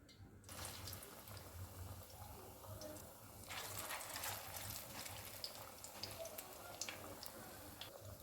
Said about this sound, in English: The oil is hot enough and is on medium heat. I introduce the plantains.